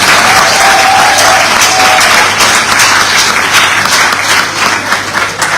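Sustained applause from a sizeable audience at a University of the West Indies Global Campus graduation ceremony in Dominica, dense steady clapping that fills the whole stretch without pause.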